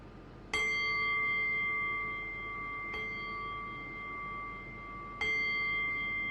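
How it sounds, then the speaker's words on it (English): Meditation bell struck three times at a slow pace, each clear metallic ring with a long sustained shimmering decay that fades as the next strike begins, alone in a quiet room. "I will ring the bell and bring us back into a conversational space."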